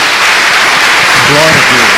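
A church congregation applauds in praise of Jesus during a worship service, loud continuous clapping filling the space while a voice speaks over it toward the end.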